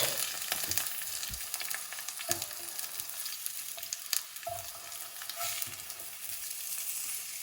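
Yam slices pan-roasting for a Chettinad-style roast give off a steady sizzle and frying hiss, with a few soft clicks and scrapes from turning the pieces. No one speaks.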